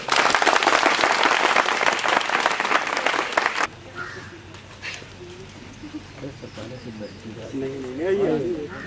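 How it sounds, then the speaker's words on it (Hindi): A seminar audience at an ICIT personality development session claps loudly and densely for about three and a half seconds. The applause then stops abruptly, leaving quieter room noise with scattered voices. "अरे ताली तो लगा दीजिए।"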